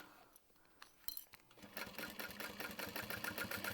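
A sewing machine back stitches along the edge of a handbag, starting after a few light handling clicks and settling into a steady, rapid, close-up stitching run.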